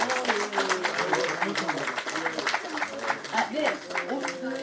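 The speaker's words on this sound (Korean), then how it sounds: "박수 부탁드립니다." An audience at a political party's welcoming ceremony for a new member applauds during a flower presentation. Scattered clapping runs steadily beneath a voice talking over a loudspeaker.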